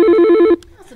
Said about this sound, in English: Answer the phone, Princess.